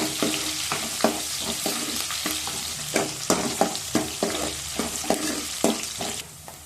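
Onions fry in a pan for tomato dal as curry leaves go in, a loud, continuous close sizzle punctuated by a regular series of crackling bursts and spatula knocks, with no talk.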